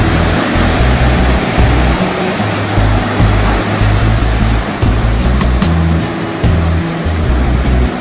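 Large dumping ocean waves breaking heavily on a beach with big swell, a loud continuous roar of surf with repeated low crashing surges and rushing whitewash.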